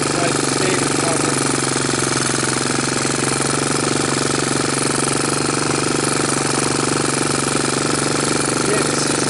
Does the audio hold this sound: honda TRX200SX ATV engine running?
yes